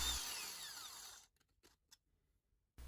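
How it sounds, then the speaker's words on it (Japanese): A power drill boring into metal whines loudly for about a second, its pitch sliding, then cuts out to quiet clicks before briefly revving again. "ちょっとなかなかドリルが入っていかないですね"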